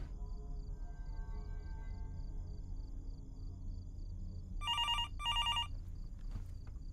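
Telephone rings in the horror game Fears to Fathom: two bursts of electronic ringing late in the clip, loud and close over a low rumbling ambient hum.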